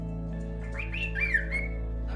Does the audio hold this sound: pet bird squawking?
yes